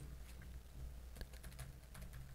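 Keyboard shortcut keys (Control G) pressed on a computer keyboard in a graphics-software session, heard as a few quick, faint clicks against a low steady hum, with a small cluster of taps near the middle.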